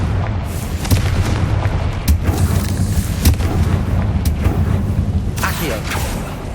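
Confringo fire spell explosions in the video game Hogwarts Legacy: repeated loud booms and sharp blasts in busy combat noise, with several distinct hits spread across the stretch.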